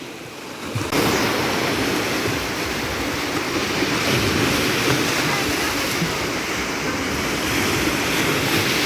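Small waves wash steadily at Golden Beach in Odesa on the Black Sea, a constant surf hiss that starts abruptly and continues with wind noise on the microphone.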